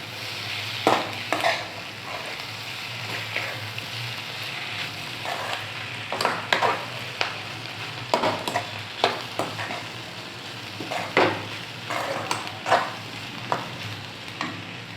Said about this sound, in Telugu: ఈ క్యాబేజీ వేసుకున్న తర్వాత ఒక 2 to 3 minutes అనేది మనకు ఫ్రై అయ్యేటట్టు ఇలా కలుపుకోవాలి